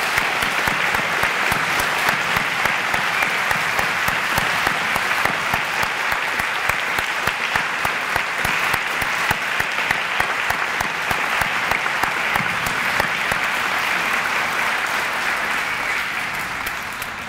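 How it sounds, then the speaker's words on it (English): Sustained, dense applause from a school audience of grandparents and families at a St. Mary's Episcopal School Grandparents Day event, rewarding the girls who sang; steady, full clapping continues without pause for many seconds. "Can we give all these singers another round of applause?"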